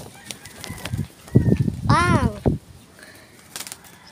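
Tame pigeons make a short, wavering coo close by, set among scattered rustling and someone talking in the background.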